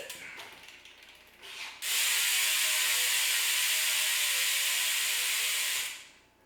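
Bolt on a trials bike being tightened, a faint clicking at first, then a loud, continuous ratcheting buzz lasting about four seconds before cutting off, close up.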